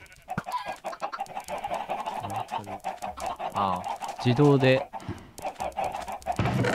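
Chickens clucking in the Minecraft video game, at an automatic chicken farm, a string of short game clucks in the foreground with people talking over them throughout.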